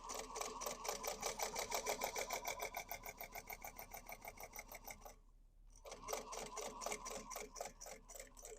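A sewing machine stitches a handmade vinyl basket in quick, rhythmic needle strokes, pausing briefly partway through and then resuming, fairly quiet and with no talk.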